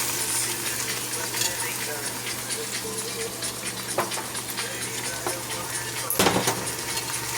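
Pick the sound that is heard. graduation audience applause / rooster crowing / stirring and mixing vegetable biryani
stirring and mixing vegetable biryani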